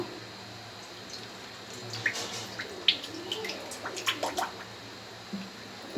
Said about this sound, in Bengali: বন্ধুরা আমার কড়াইটা গরম হয়ে গিয়েছে। এবার আমি তেলটা ঢেলে দেবো।